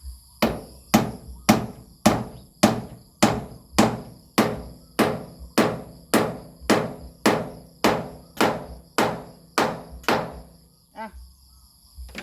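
Steady hammer blows drive nails into wooden boards, about eighteen sharp, loud strikes at an even pace close by, ending with a short scrape.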